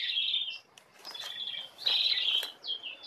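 Prinia (perenjak) bird song outdoors: a run of sharp, high chirps and trills with a brief pause, then louder chattering phrases, close by and without speech.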